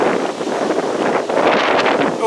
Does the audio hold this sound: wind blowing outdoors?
yes